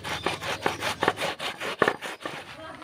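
Soaked lentils are rubbed by hand for making dried dal dumplings, giving a rhythmic gritty scrubbing, about eight close strokes in steady succession.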